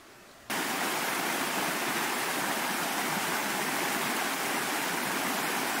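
A morning creek flowing steadily, its broad rushing wash starting abruptly and continuing loud and close without pause, no voices.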